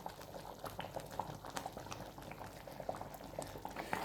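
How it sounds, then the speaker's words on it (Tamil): Dal for a dhaba-style dal fry simmering in a pot on a low flame, giving a soft, continuous bubbling and popping, fairly quiet and steady with no voices. "நல்லா கொதிக்குது."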